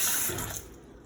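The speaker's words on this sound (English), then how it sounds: "Faucet. And it comes out." Water gushes loudly from a kitchen faucet in an empty apartment, a steady broadband rush that drops to a softer flow after about half a second.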